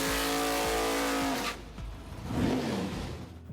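Top Fuel drag racing cars accelerate with a loud, close, harmonic engine roar that cuts off sharply after about a second and a half, then swells again more faintly as the cars pull away.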